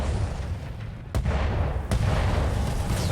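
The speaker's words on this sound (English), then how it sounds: "Oh, ammunition explosion." An ammunition explosion rips through a mech in a BattleTech-style video game, a couple of sharp blasts cutting through a dense, continuous roar of battle noise.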